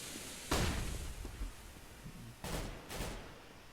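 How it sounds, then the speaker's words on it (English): A flashbang grenade in Counter-Strike on the Mirage map goes off in sharp bursts, one loud bang followed by two more cracks over a dense, noisy game background. "Throwing flashbang."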